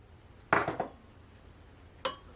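A utensil knocks and scrapes inside a pot while pepper steak is stirred, a short cluster of clinks followed by one more clear tap after a pause, close and moderately loud with no talking.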